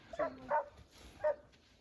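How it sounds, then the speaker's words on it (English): Three separate barks from hunting hounds in Africa, fairly faint and distant, spaced unevenly over a quiet background. "Some of the hounds started opening up"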